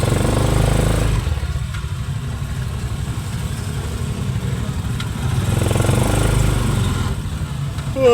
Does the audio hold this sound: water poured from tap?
no